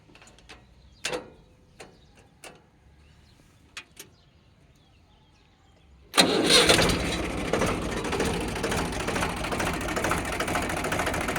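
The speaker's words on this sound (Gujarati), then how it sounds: "હવે આપણે સેલઅપ મારીને બતાવી દઈએ એન્જિનની સ્થિતિ" A Mahindra 295 Super Turbo tractor with a newly fitted battery is self-started: a few faint clicks, then the diesel engine catches abruptly and keeps running loud and close at a steady idle.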